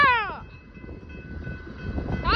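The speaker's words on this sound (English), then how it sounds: "The tanker train is doing a crew change, I believe. Since it's slowing down." A tanker freight train slows for a crew change, giving a low rolling rumble with a thin, steady metallic whine, while brief high vocal squeals break in at the start and end.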